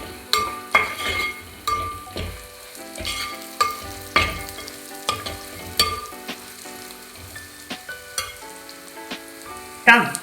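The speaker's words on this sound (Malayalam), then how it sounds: "തേങ്ങാക്കൊത്ത് ചേർക്കാവേ" Coconut pieces fry with curry leaves in a pan for a Kerala chicken perattu, giving a steady sizzle broken by frequent sharp scrapes and clinks of a spoon stirring against the metal.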